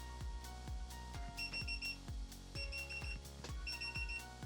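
A Divoom Pixoo 64 pixel art display sounding its alarm, a repeating electronic beeping pattern with bright tonal chirps in regular bursts, fairly quiet and with no voices.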